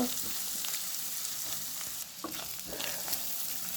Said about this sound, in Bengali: এগুলো নাড়াচাড়া করে ভাজা হয়ে গিয়েছে